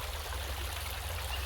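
River water rushes steadily along an African river in bushland, a constant close broadband wash with a low rumble underneath and no voices.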